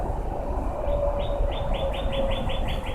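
Little birds in a Mario Party 2 two-versus-two minigame chirp in a quick rising series of short tweets over steady game music, with a single brief chirp followed by a regular run of repeated calls.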